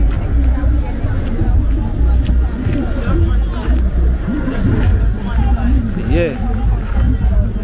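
Large outdoor crowd gathered outside a concert in Kingston, Jamaica, a steady loud babble of many voices with traffic hum beneath and a nearby voice speaking briefly.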